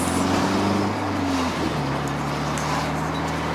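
A car driving with the windows down, a loud steady engine drone with wind rush, the engine pitch dropping partway through as the gear changes.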